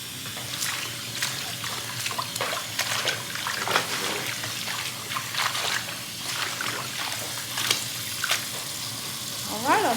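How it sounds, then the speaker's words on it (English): Turnip greens being washed in cool water, with steady splashing and trickling close by and scattered sharp clinks and rustles throughout. "Alright, I'm washing the greens."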